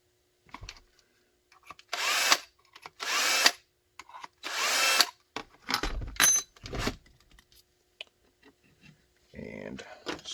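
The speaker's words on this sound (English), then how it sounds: "We'll go ahead and mark and drill the holes for the RTI plate." A power drill bores holes for an RTI plate in short bursts, several loud whirring runs separated by pauses, with some clattering and handling noise in between.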